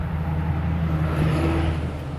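A 2017 Chevy Cruze cruising on the road, its steady low engine hum and tire rumble filling the cabin evenly, with a faint rising whine partway through and no talking.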